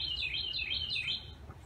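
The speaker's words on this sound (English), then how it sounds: "The birds are cheering you on." Birds chirp outdoors in a quick series of high, repeated descending tweets, fairly clear and close, over a low rumbling background with no talking.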